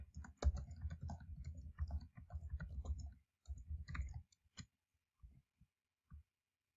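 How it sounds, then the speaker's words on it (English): Text is typed on a computer keyboard as a quick, faint patter of close key clicks that runs for a few seconds, then thins out into a few scattered taps. "if, say, I want to add text to this comment, I would just type whatever I want to add"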